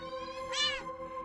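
A single short, rising-then-falling cat meow from the video game Don't Take This Cat Home sounds clear and close over a quiet background hum.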